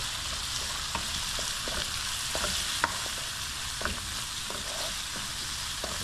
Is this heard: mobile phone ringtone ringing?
no